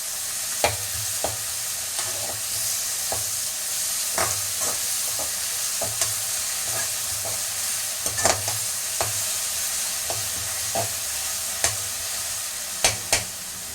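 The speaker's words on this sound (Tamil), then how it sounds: "இஞ்சி பூண்டு பேஸ்ட்டு அதிலே போட்டுடலாம்." Ginger garlic paste fries in a pan with a steady sizzle while a spoon stirs it, scraping and tapping the metal in irregular, close strokes, with no talking.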